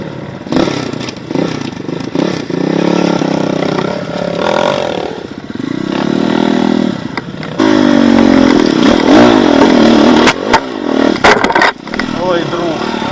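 A motorcycle engine revs in a forest enduro race in the light class, its loud rasping note rising and falling in bursts with clattering, while people talk nearby.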